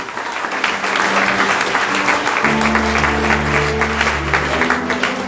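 Church congregation clapping together in praise after prayer, steady dense applause close by, with instrumental tones from music underneath.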